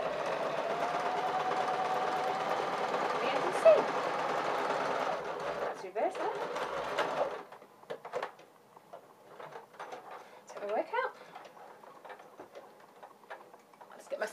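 A sewing machine stitches a princess seam in a steady, fast mechanical whir for several seconds, then stops and gives way to quieter handling clicks and rustles, with a voice speaking softly in the background.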